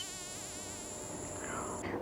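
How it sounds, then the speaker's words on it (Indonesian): Flies buzzing around meat in a puppet story, a steady, continuous high-pitched whine that holds for about two seconds and then cuts off. "Lalat itu masih saja berterbangan di sekitar makanan Sony."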